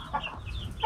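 Free-range chickens cluck in brief, close calls over a low background rumble, a few short vocalizations within a second.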